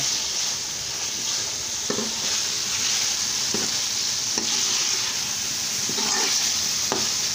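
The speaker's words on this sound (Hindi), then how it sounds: "चिपड़ डालकर इसको अच्छी तरह भून लेंगे मसाले को और चिपड़ों को" Masala and chickpea lentils fry in a pan with a steady bright sizzle, punctuated by several soft scraping stirs at irregular intervals.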